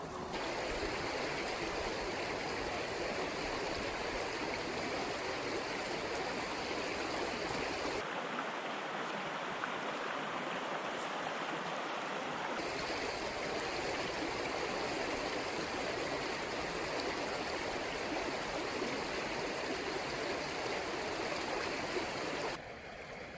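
A brook trout stream flows in a steady, dense rush close by, continuous and unbroken for over twenty seconds with no voices.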